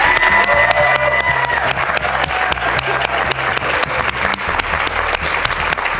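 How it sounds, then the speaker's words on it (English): An audience at a women's television show breaks into loud, sustained applause with some cheering, a dense continuous roar of clapping heard close and without talk. "Let's give her a big round of applause."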